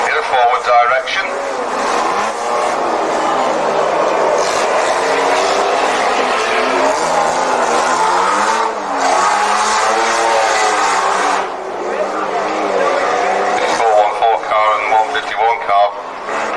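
Banger racing cars roar around the narrow Warton race track, engines droning loudly and continuously with revving swells, under a commentator's steady talk.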